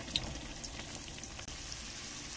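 Sliced onion going into whole garam masala frying in oil gives off a steady, fairly faint sizzle with light crackles and no voices.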